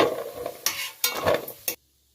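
Ingredients for gond laddu roast in ghee in a pan, with three or four close, sizzling scrapes of stirring in uneven bursts before the sound stops abruptly into silence.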